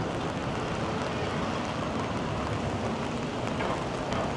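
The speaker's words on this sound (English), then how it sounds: "Once the rain starts falling" Steady, dense rain falling continuously on a Toronto street, a broad hiss with scattered drops, loud and close throughout with no voices.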